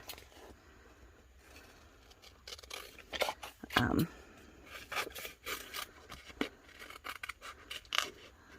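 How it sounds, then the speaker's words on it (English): Scissors cutting apart Dollar Tree nail decals: a quiet run of close snips and paper rustles, irregular and soft, with brief louder crinkles midway and a voice speaking faintly in places. "But I am going to cut these all apart."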